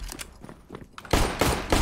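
Gunfire in the video game CS:GO crackles in quick bursts, a short rattle of shots followed by a louder, denser volley near the end, with no talk.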